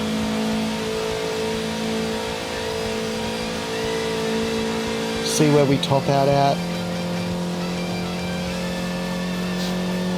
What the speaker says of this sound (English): Bombing it down Conrod, trying to unleash all 200 horsepower of this car.